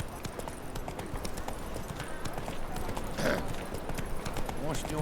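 Roach the horse from The Witcher 3 gallops with fast, continuous hoofbeats under a voice and game sounds.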